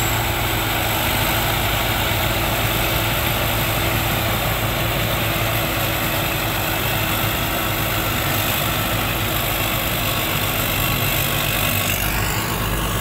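A Pornkinaree combine harvester engine runs steadily and loudly while it unloads rice into a six-wheel truck, giving a constant droning rumble with a mechanical whine and no talk.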